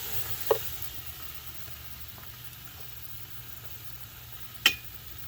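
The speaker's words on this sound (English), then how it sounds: "Get a good sear." A tri-tip steak searing on a grill gives a low, steady sizzle with a soft background hum, and two sharp clicks or pops stand out, one early and one near the end.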